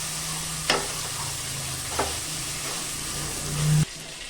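Spice paste for chicken curry fries in a pan with a steady, close sizzle, broken by a few brief scraping stirs; no voices.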